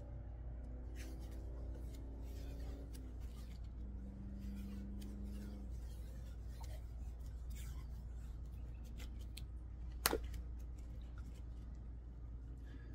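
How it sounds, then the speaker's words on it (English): Adhesive tape is unwound and wrapped around a handmade domed flint knapping bopper with no lead, over sawed rough edges, giving a few drawn-out tearing, squeaking pulls and soft rubbing against a steady low background hum. "Now, tape the outside."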